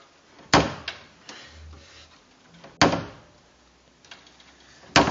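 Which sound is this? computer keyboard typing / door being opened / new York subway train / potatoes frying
door being opened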